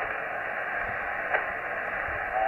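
Yaesu FT-817ND radio receiving with its RX gain turned up, giving a steady wash of hiss and static that holds at an even level throughout, with a faint brief blip partway through.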